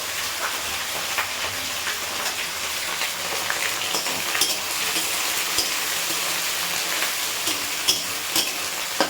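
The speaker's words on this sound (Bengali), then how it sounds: "এটা ততক্ষণে পেঁয়াজটা ততক্ষণে ভাজা হোক" Chopped onion and green chili sizzling in hot oil in a pan, a steady dense crackle and hiss with scattered sharp pops throughout, close and continuous with no voices.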